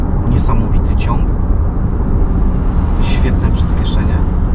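A 2021 Lexus RX450h hybrid accelerates hard, a strong continuous low roar of road and drivetrain noise inside the cabin, with someone talking briefly over it.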